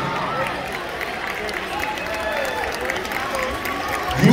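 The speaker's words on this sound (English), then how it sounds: "Can all those teams stand for a round of applause?" At a provincial cheerleading awards ceremony, the crowd applauds the U8 Level 1A teams with sustained clapping, cheering and high-pitched shouts from young athletes, a continuous, even wall of crowd noise.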